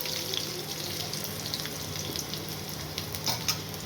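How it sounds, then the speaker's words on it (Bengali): Onion frying in a pan gives a quiet, steady hiss with a few faint clinks and stirring touches throughout. "এরপরে পেঁয়াজটি ভাজা ভাজা হোক"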